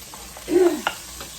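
Bacon frying in a pan for wilted lettuce and onions, with a soft steady sizzle and one brief swell of scraping as it is stirred, followed by a sharp utensil tap near the end; no talking.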